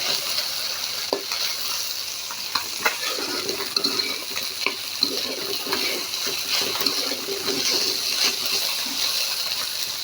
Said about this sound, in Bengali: ভেন্ডি দিয়ে চিংড়ি মাছ ভাজি